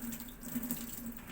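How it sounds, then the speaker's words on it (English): Tap water runs steadily into a sink as hands are rinsed during a hand-hygiene routine, a continuous close splashing stream with no talk over it. "Rinse hands with water."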